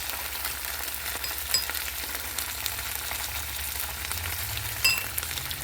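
Pork bung pieces fry in a pan with sauce, making a steady, dense sizzle and crackle that carries on throughout, with a couple of faint utensil clicks. No one speaks.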